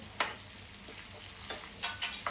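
Masala-stuffed bitter gourds fry in oil with a faint, steady sizzle. Light scraping stirs and small ticks come through at irregular intervals.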